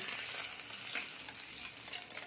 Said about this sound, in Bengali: এখানে আমার তেলটা গরম হয়ে গেছে এবার এর মধ্যে আমি সাদা তিল দিয়ে দিচ্ছি